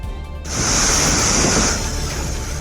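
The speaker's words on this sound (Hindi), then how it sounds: "तेज बारिश के बाद पहाड़ों से गिर रहे कई झरने उफान पर आ गए हैं" A waterfall running in flood after heavy rain in the Meghamalai hills of Theni, heard as a loud, steady roar of rushing water that swells in after a brief quieter start and holds continuously.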